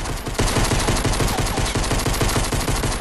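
Rapid gunfire from the Fortnite video game, including pump shotgun shots, bursts in a loud, dense string of repeated blasts with no voices over it.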